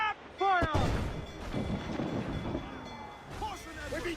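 Ship cannons in Assassin's Creed: Black Flag fire with a heavy boom followed by rumbling blasts, while a voice shouts over the battle noise and other voices talk.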